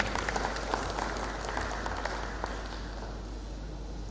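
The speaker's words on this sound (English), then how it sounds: "Please put your hands together for her." Audience applause at an international labour arbitration and adjudication forum, a dense continuous clapping wash from a crowd that fades slightly toward the end.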